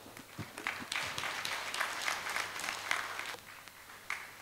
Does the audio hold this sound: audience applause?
yes